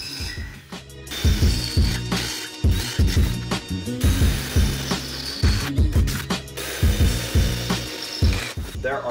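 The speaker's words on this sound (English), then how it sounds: "There are my four holes drilled out." A power drill with a 15/64 bit bores holes into a Chevy Colorado ZR2 rear bumper for LED pod lights, loud repeated bursts of whirring and grinding with ratcheting clicks between pauses.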